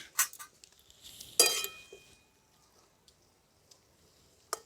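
A metal lid comes off a pot of boiling papaya with a bright clank, then a longer rattling scrape of metal on metal, followed by quieter ticks and a final sharp clink.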